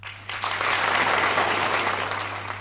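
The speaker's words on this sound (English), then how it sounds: "Della Bosca earned a rousing applause for his efforts with the opening." An audience gives rousing applause for a government minister at the opening of a new school facility, dense clapping that swells in quickly and stays full and steady, with a low constant hum beneath it.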